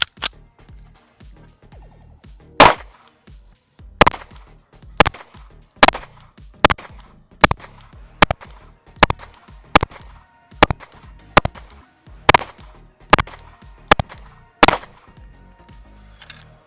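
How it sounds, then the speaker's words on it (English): An Alpha Foxtrot 1911-S15 pistol fires its first rounds: about fifteen sharp, loud shots, at first spaced irregularly, then in a fairly steady cadence roughly every half second to a second, with no talking. "All right, so first rounds through the gun."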